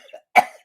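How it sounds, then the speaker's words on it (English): A single sharp cough from a man, close and loud, with faint breathy sounds just before it. "It gave me a contact cough."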